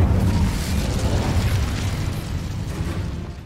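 Incendio fire spell in Hogwarts Legacy, a loud, sustained roaring whoosh of flame that holds steady and slowly tapers over a few seconds, with no speech.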